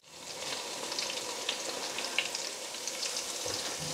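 Mixed vegetables deep frying in oil, a continuous close bubbling sizzle with fine crackles and a few brief pops, steady throughout, no voices.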